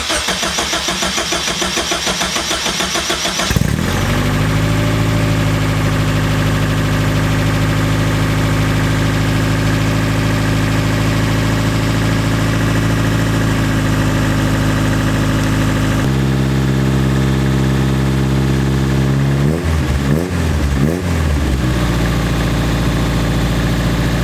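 A 1973 Toyota Celica with a new exhaust fires up and settles into a loud, steady idle, its deep exhaust rumble close and continuous, with a few brief revs blipping the engine near the end.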